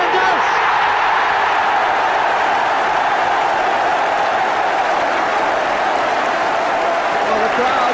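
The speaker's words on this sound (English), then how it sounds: "the crowd showed their appreciation" A football crowd applauds a headed goal, sustained loud clapping and cheering filling the stadium without a break.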